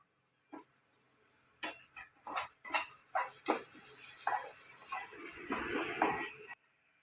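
Onions fried to a pinkish colour in a pan while asafoetida, turmeric and salt are stirred in, giving repeated scraping and clinking strokes of a spoon against the pan over a soft background sizzle, close and steady.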